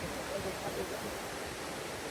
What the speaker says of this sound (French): c'est une cascade de folie